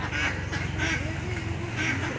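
Ducks quack repeatedly in scattered bursts over a steady low rumble, at moderate distance.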